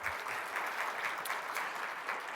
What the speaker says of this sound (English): give my staff another round of applause